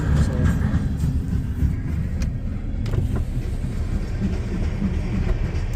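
A long freight train passes on a cold December morning, giving a continuous loud low rumble and rolling noise with faint rhythmic clacking of wheels that holds steady throughout.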